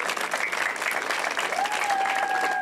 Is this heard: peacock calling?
no